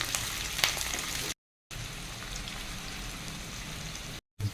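Green chillies fry in hot oil for a dhaba-style egg masala gravy. A soft, even sizzle with a few crackles drops out into brief silences, and no one speaks.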